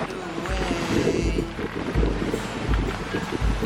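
Wind blowing steadily across a sailboat under way in the Bahamas Out Islands, a continuous rushing roar with buffeting gusts against the microphone and low rumbling bursts, no voices.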